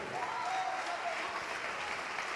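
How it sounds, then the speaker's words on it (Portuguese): A church congregation applauding, a dense continuous patter of many hands clapping up close, with a faint voice calling over it briefly. "vamos aplaudir mais, igreja"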